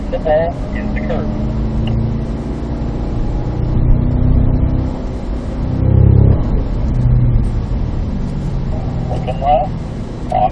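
A Cadillac CT5-V Blackwing engine drones and rises and falls in pitch as it accelerates and eases off on a race track, heard from inside over a constant road roar.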